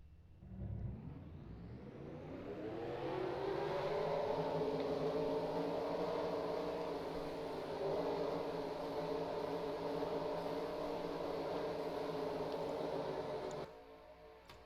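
Race trucks rolling off at Rockingham in a racing video game, engines droning up from near silence into a steady, layered mechanical hum that holds, then cuts off abruptly near the end.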